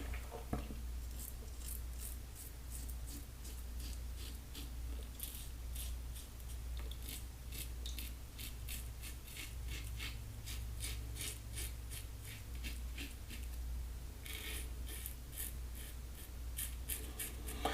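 Safety razor with a #3 baseplate scraping through Wholly Kaw shaving cream on the mustache area, a run of short, crisp rasping strokes close up, repeated quickly with brief gaps in between.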